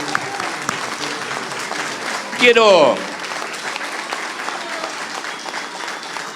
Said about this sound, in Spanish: más fuerte el aplauso al presidente